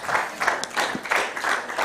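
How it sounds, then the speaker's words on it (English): Audience applause at a young filmmakers' event, light rhythmic clapping from a small crowd heard at moderate distance, in a few uneven bursts. "Please, another round of applause."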